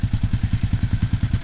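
A motorcycle fitted with a Lexx exhaust, baffles removed, runs close by with a rapid, even, deep thumping pulse and no talking.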